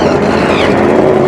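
A drag race car at a race week event launching down the strip, a loud, dense, sustained engine roar with a slight rising sweep partway through, close and continuous with no talk over it.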